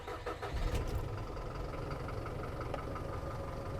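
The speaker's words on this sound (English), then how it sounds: "first place the keys in the ignition and start the truck." A truck fitted with a Carrier refrigeration unit cranks and catches, then settles into a steady low idle heard up close, with a brief louder burst at the start.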